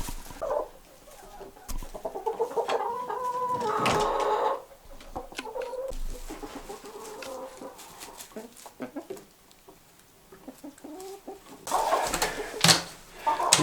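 Laying hens cluck in a coop on a below-zero winter morning, with irregular overlapping clucks and squawks, some close and some farther off, continuing throughout.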